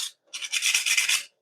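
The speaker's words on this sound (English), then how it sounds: "Let's maybe use a piece of the sandpaper to make sure we have a better" A piece of sandpaper rubbed by hand over a showerhead repair part, a short scratchy rasp followed by a sustained rhythmic scrubbing of about a second, close and alone.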